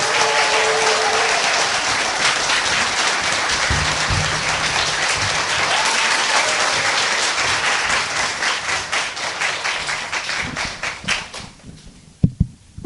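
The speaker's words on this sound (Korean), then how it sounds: "우리 동아대학교의 정기준 교수 박수로 모시겠습니다." A live audience at a Busan public broadcast applauds to welcome a guest professor from Dong-A University: loud, dense clapping that holds steady for about ten seconds, then thins out into a few scattered claps and ends.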